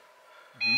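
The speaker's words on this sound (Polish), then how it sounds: "To był odgłos kalibracji, bo się włączyło czujnik gazów i narkogazów." A gas and narcotic-gas detector in a camper van gives its calibration beep when switched on: a single steady electronic tone starting partway through and holding to the end, clear and close, over quiet background.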